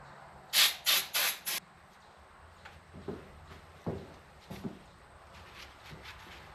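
Four quick bursts of aerosol brake cleaner spray hiss loudly onto brake parts during a 2004 Infiniti FX35 front brake job, followed by soft clicks and handling sounds.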